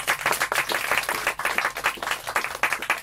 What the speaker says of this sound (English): a big round of applause for them again